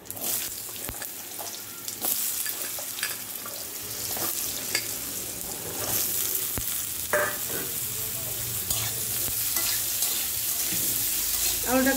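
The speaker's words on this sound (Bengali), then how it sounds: "তো এবারে আমি আলুগুলোকে ছেড়ে দেবো" Potatoes drop into hot oil tempered with cumin or five-spice and asafoetida, producing a continuous loud sizzle with occasional stirring scrapes, close by and steady.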